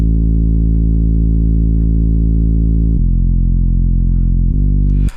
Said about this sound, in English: We have a square wave and a saw wave playing side by side.